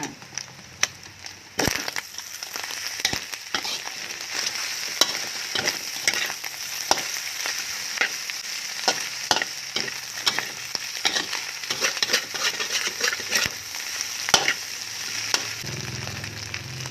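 Red tilapia fish meat frying with cooked egg in a pan sizzles steadily and closely, with repeated sharp clicks and scrapes of stirring throughout and no talking.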